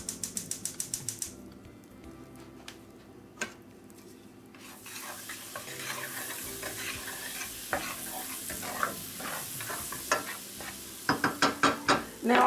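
Butter and cauliflower sizzle in a pan on the stove with a soft, growing hiss. Rapid clicks of a burner igniting come at the start and again near the end, along with scattered clinks and stirring sounds.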